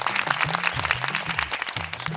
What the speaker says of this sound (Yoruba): Ẹ bá ń pàtẹ́wọ́ fún un, ó gbà o.